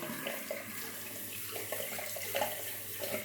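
Water runs steadily from a bathroom tap into a sink to prepare a shave, a continuous broadband splashing hiss with small fluctuations throughout, close and moderately loud.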